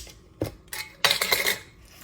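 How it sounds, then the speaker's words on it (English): Coffee beans are scooped in a home kitchen, giving a few sharp, close clatters and rattles in quick succession, the last a longer rustling burst. "a couple of scoops of coffee beans"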